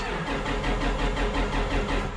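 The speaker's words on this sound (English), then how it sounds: "You can crank the engine" A car engine cranks repeatedly without catching while an electrical fault is being traced, with a steady rhythmic starter churn, loud and close, and no voices.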